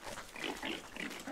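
A short burst of grunting pig oinks from the video game Don't Starve Hamlet, several quick snorting calls in a row at moderate volume, heard alone without talk.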